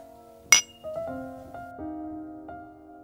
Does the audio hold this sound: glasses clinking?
yes